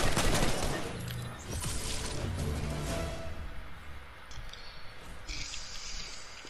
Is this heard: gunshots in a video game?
yes